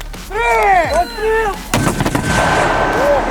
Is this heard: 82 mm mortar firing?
yes